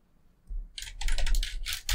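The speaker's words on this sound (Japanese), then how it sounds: "今、キーボード触ってます。" Fast, close typing on a computer keyboard sits right behind a new AT2020 microphone, a dense clatter of key clicks that starts after a half-second of silence and runs to the end.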